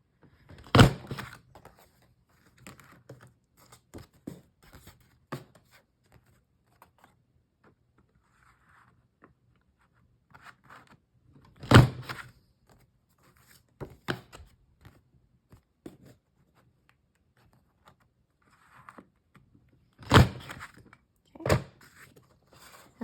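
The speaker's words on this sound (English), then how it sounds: "I've got my hole punch here set to A5" A hole punch set to A5 bites through two thick glitter planner dividers at a time, giving a few sharp, isolated punching thunks spaced well apart, with quiet handling rustles and shuffling between them.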